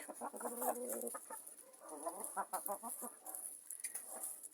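Several Bielefelder chickens cluck and chatter close by in a continuous, busy stream, with a steady high-pitched whine running underneath.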